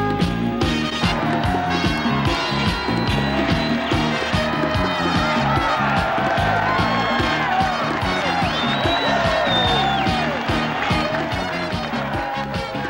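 A 1984 Auburn Tigers home football stadium crowd roars and cheers continuously, with clapping and whoops, loud and dense throughout, while a band or announcer-style sound plays beneath the thick wall of noise.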